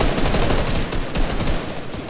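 Sustained gunfire in a Fortnite match, with the player being hit: a dense, loud burst of rapid shots rattling continuously for about two seconds.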